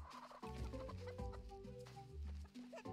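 Chickens cluck repeatedly in a farming video game, a busy run of short, close clucks and squawks layered with game music tones.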